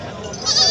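A goat bleats at a livestock market in Taxila, a short, loud, close cry that swells toward its end amid market noise.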